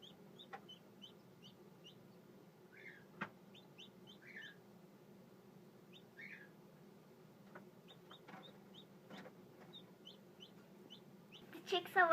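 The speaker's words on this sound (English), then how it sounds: "The little guy's starting to get more active and cheeping." Newly hatched chicks in an incubator give repeated high, thin cheeps, scattered and faint over a low background hum, growing busier toward the end.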